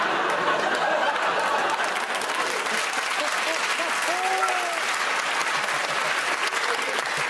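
A studio audience at a comedy panel show applauds in a dense, sustained round of clapping that fills the room, steady and loud throughout, with faint chuckles mixed in.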